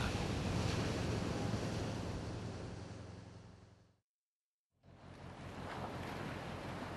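Heavy wind and crashing ocean waves roar loudly and steadily around a fishing boat at sea during winter cod fishing, with one brief silent break before the rushing noise returns.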